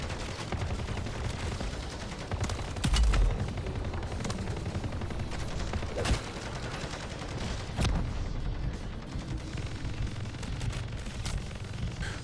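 Automated turrets fire continuously during a boss fight in the MW3 video game, making a dense, steady barrage of gunfire with a few louder blasts and no speech.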